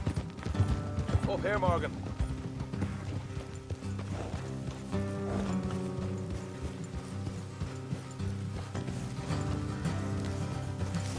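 Horse hooves clip-clopping on a road in the Red Dead video game, steady galloping rhythm under in-game music, with someone speaking briefly over it.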